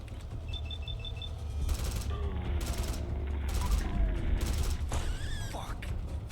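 Gunfire in Fallout London, a post-apocalyptic role-playing game set in London: a few bursts of rapid shots with mechanical clatter, moderately loud over a low rumbling background, separated by brief pauses.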